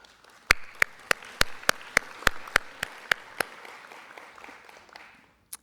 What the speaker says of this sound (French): Je crois qu'on peut aussi les applaudir.